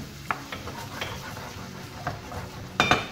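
Onions and anchovies in oil in a pan over medium heat, a quiet steady sizzle broken by a few light clinks and stirring scrapes of a utensil against the pan.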